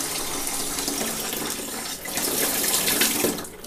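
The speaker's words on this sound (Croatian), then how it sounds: "Eto, znači pustio sam vodu tamo vamo" Water runs steadily from an open tap while an Ariston 80-litre combination boiler is drained for descaling, a loud continuous splashing rush with a brief dip partway through.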